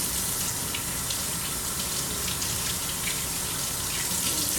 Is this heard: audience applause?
no